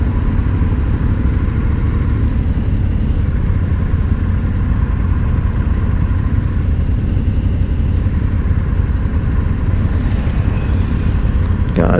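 A 2021 Yamaha Ténéré 700 motorcycle engine on a demo ride runs in a loud, constant rumble with heavy wind noise and no pauses.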